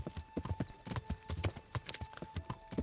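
Hooves of a galloping horse in the medieval game Kingdom Come: Deliverance, ridden at full sprint into a town at night, a steady rapid clip-clop that runs close and fairly loud for the whole stretch with no talking.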